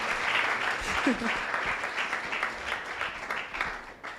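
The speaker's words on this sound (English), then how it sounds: "Guys, please, everybody here on this panel deserves a round of applause." An audience at a youth democracy event claps for a panel. The applause is moderate and slightly uneven, with a brief voice and a few cheers rising through it.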